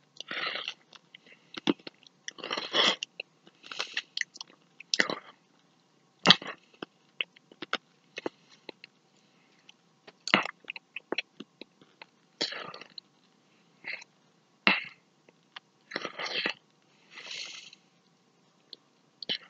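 Crunchy Carolina Reaper corn nuts are chewed close to the mic in bursts of loud, dry cracking and crunching, separated by quiet pauses over about twenty seconds, with no talking.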